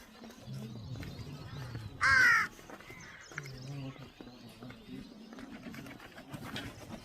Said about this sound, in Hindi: यहाँ का कौवा देखिए आप